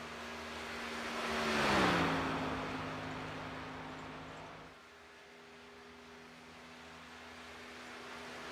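A NASCAR Xfinity race car in the iRacing sim roars past, its engine note swelling to a peak, dropping in pitch as it goes by, then settling into a quieter distant drone.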